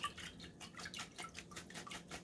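Faint, quick patter of water drips and trickles at a kitchen sink while apple slices soaked in lemon juice are rinsed, an irregular splashing rhythm close by.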